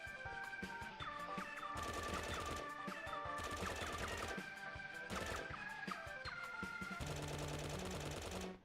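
Video game machine gun fire rattles out in long, dense bursts over a steady game soundtrack, loud and continuous throughout with brief gaps between volleys.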